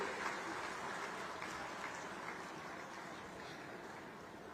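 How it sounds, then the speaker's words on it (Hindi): Steady applause from an audience at a government ceremony handing out cheques and housing papers to refugee women, a dense continuous clatter of many hands filling the space at even strength throughout. "आपकी तालियां जोरदार मंच तक हमारी इन बहनों के लिए"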